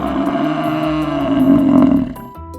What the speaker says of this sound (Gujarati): ભેંસ બરાડે